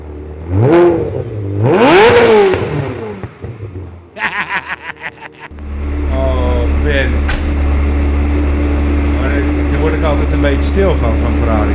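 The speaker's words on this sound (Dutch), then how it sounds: "Het aanzetten der Ferrari." A Ferrari engine cranks and fires up with a sharp bark, then settles into a loud, steady idle, preceded by people talking and a few quick clattering cranking pulses.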